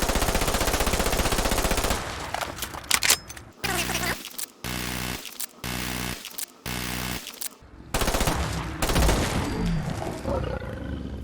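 Semi-automatic .45 caliber SMG fire in Fallout 4, loud rapid bursts separated by short gaps, mixed with a creature's roaring and game combat noise.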